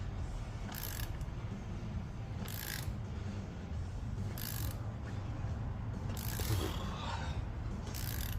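A ratchet works a tight bolt on a Harley-Davidson motorcycle during a stator replacement, with several bursts of quick clicking spaced a second or two apart over a steady low background hum, close and fairly quiet.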